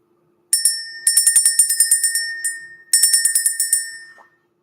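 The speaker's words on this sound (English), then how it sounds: "Let's ring the bell." A small bright bell is rung in two quick bursts of rapid strikes, loud, close and metallic, its tones ringing out and then fading into silence.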